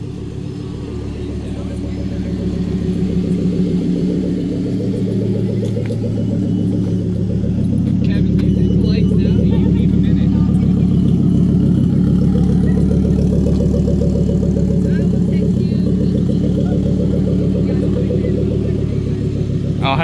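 A Volvo V70R sits idling with a steady, loud, even rumble that holds for the whole stretch, swelling slightly partway through, with some talk possible underneath.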